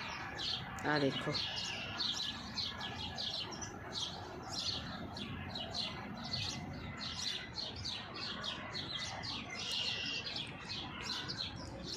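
Flock of pigeons being fed grain outdoors in Canada, many close, busy chirps and tweets overlapping in a constant chatter, with a few soft words spoken briefly near the start.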